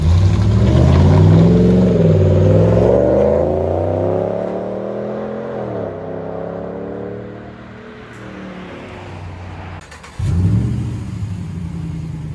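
A 2012 Ram 1500 pickup with a 5.7-liter HEMI V8 revs loudly through its exhaust, the deep rumble swelling high, easing down and then surging again near the end, with no voices.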